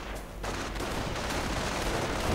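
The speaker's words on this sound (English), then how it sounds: "Machine gun firing away" Machine gun fire in a World War II real-time strategy game, a dense continuous barrage of rapid shots and explosions that swells after a brief lull at the start and stays loud throughout.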